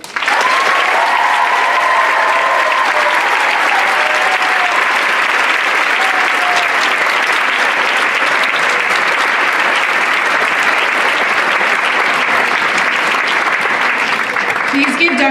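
Sustained, loud applause from a large audience at an Arab American community event, a continuous even wash of clapping that holds steady for the whole stretch, with a few voices threaded faintly underneath.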